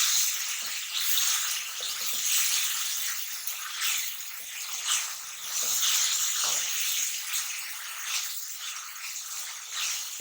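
Garlic ginger paste frying in a pan, giving a continuous close sizzle and crackle with faint stirring rattles throughout.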